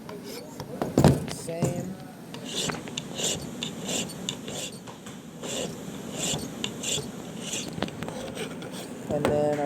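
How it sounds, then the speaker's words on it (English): A hand file rasping along the edge of a brake pad with short, steady strokes, close and fairly quiet, while someone talks over it. "Just try to hold the file nice and straight. It's going to take pretty minimal work. A little bit on the edge here."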